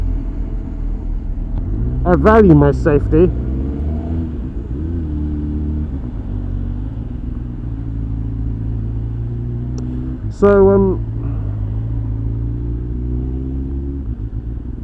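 Steady low rumble of road traffic and an idling Honda Hornet motorcycle on a commute, with someone talking over it and a brief louder rev or passing vehicle midway.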